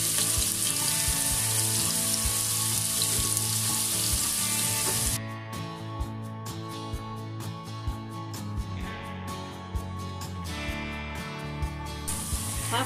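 Chopped onions hitting hot oil with cumin seeds, a loud bright hiss at first that settles into a softer, steady frying sizzle with scattered pops and occasional scraping stirs.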